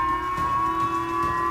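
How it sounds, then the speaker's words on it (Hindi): A missile warning siren wails across Japan after a North Korean missile launch, a steady, sustained tone holding unbroken from start to finish with no voices. "खतरे का सायरन जापान में बजा"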